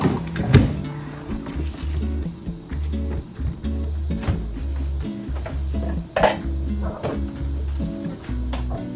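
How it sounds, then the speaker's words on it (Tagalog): Dishes, pots and pans being washed in a home kitchen during cooking, with repeated clinks and clatters of plates and utensils, water-like rustle, and steady rhythmic knocking underneath, loud and close. "Habang nagluluto-luto tayo dito, maghuhugas na rin tayo ng pinggan."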